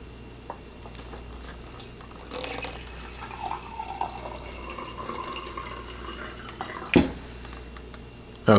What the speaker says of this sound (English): So you fill with lower chamber, let's see, just below the valve,